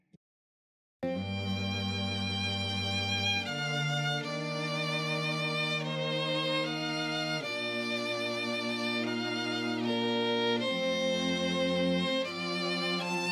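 String quartet captured with a Bloomline stereo microphone pair, sustained chords moving in held blocks after a second of silence, full and steady throughout with no talking.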